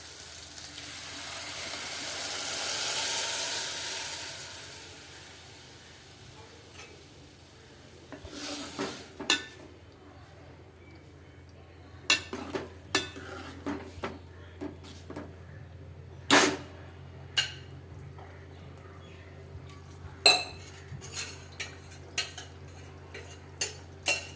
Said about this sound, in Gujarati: તો આપણે હવે આમાં દાળનો વઘાર કરીશું